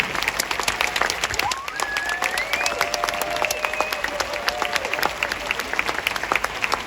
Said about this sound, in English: let's put our hands together again to congratulate them